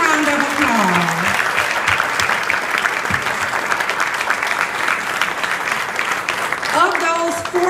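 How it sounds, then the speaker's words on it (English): Audience applause at a school partners' breakfast honoring a top celebrity reader, loud and sustained throughout, with voices audible under the clapping and a brief whoop near the end. "Let's please give Uni Rose a huge round of applause."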